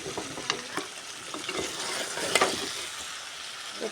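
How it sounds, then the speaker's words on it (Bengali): Fried hilsa fish goes into a pan of sizzling sautéed eggplant, a soft steady frying crackle with a few sharp clicks and scrapes of stirring, close and fairly quiet, no talking. "মাছটা মেখে রেখে দিছি, ভাজিয়ে এই মাছটা এখন দিয়ে দিব।"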